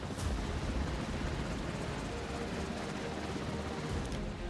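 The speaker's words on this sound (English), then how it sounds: "Helicopter ready for launch." A helicopter launches from a warship in the naval combat game Warships Mobile. A steady, dense rumble of rotor and engine noise mixes with the ship's ambience and holds at an even level throughout.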